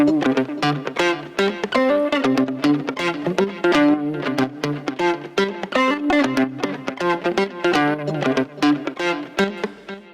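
Space disco guitars mixed with Kickstart sidechaining: dense, distorted, effects-laden guitar chords that pump rhythmically with steady ducking dips, loud and continuous throughout.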